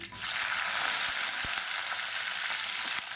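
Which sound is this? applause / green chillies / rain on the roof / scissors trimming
green chillies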